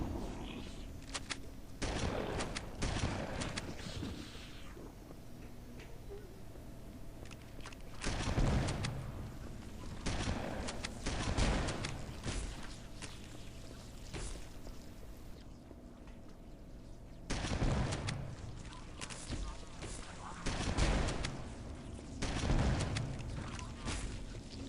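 Rocket launcher blasts and gunfire in Halo: Combat Evolved on Legendary in the Library level, with several loud booming bursts spaced through the stretch over steady game ambience.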